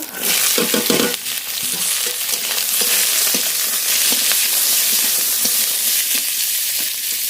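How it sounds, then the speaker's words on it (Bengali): Spices frying in mustard oil in a wok, cumin first and then the remaining spice mix, with a steady loud sizzle throughout and scattered clinks of stirring, no voices. "লবণ, হলুদ, মশলাটা খুব ভালো করে ভেজে নেব।"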